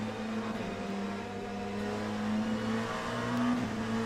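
Race cars in the Le Mans Ultimate sim racing game drive past on track, a steady droning engine hum with sustained tonal whine that swells slightly toward the end, no talk.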